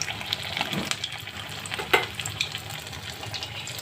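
Lote fish coated in batter fries gently in a pan over low heat, a steady soft sizzle with occasional crackles and small clinks, no voices.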